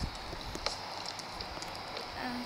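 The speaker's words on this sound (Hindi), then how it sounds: "रात भी हो रही है और बारिश भी हो रही है।" Rain falls in Minecraft as a steady, dense hiss with scattered soft pattering drops, continuous and moderately quiet throughout.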